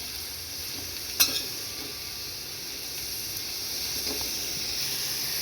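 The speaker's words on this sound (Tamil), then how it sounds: "எல்லாத்தையும் ஆட் பண்ணிவிட்டு நல்லா மிக்ஸ் பண்ணிக்கலாம்" A steady sizzle of spices and yellow pumpkin frying in a pan, a spoon scraping and stirring through it, a couple of brief clinks near the start.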